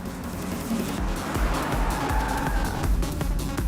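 A car being driven on the road, a continuous rumbling engine and road noise with a wash of broadband hiss and occasional low thumps, steady and fairly loud throughout.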